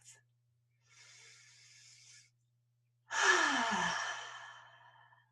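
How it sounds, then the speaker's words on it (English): A slow breathing exercise: a soft, airy inhale through the nose, a pause, then a louder, longer sighing exhale out through the mouth, close and alone. "breathing in through your nose and out through your mouth"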